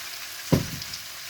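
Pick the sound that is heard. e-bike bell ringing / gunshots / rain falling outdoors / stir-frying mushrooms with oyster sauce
stir-frying mushrooms with oyster sauce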